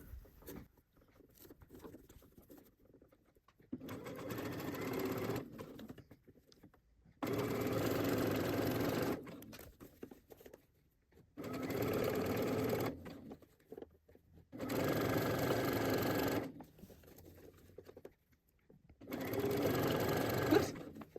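A sewing machine stitches a kitchen towel in five bursts of steady motor whirring, each a few seconds long, separated by short quiet pauses. The sound is close, and no one speaks.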